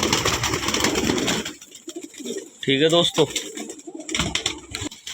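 Kalpotia pigeons cooing in a loft, with a short burst of deep throaty coos in the middle and someone talking before and after.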